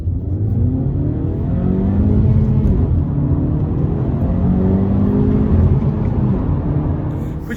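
A Honda Civic with a 1.5-litre VTEC turbocharged engine and manual gearbox pulls hard under acceleration, a loud, continuous engine drone from inside the car, rising and levelling without a break.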